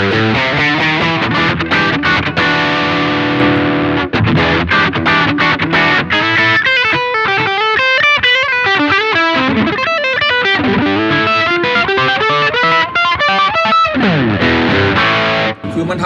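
An electric guitar through a PRS Mary Cries optical compressor pedal plays sustained chords and then quicker picked lines with a smooth, even, compressed tone, loud and close throughout.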